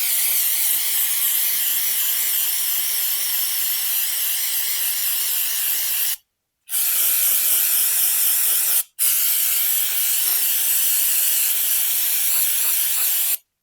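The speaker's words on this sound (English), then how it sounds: "Basically, just spray down all the bits." Aerosol cleaner sprays onto a car's mass airflow sensor in long, loud, steady hissing bursts, broken by two brief pauses, close to the source with no talk.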